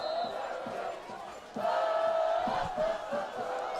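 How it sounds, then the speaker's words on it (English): Crowd at a varsity high school football game roars from the stands, a broad sustained cheering and yelling that swells louder partway through, heard from a distance with no clear talk over it. "Crowd trying to get loud to prevent the touchdown here."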